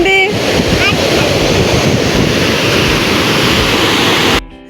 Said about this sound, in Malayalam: എവിടെ നോക്കിയാലും ഇവിടെ വെള്ളച്ചാട്ടമേ ഉള്ളൂ.